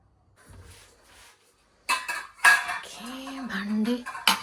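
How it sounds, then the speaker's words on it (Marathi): Dishes and spoons clatter as they are handled from a dishwasher in a home kitchen. A quiet start with a faint knock gives way to sharp, irregular clinks and rattles of metal and crockery, close and fairly loud. "ओके, भांडी"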